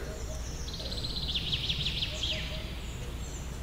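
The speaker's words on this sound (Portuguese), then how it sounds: "Pode dar volume aí para o povo ouvir bem os passarinhos." Birdsong plays back from a video through speakers in a church hall, a faint series of rapid chirps and trills over a steady low room hum.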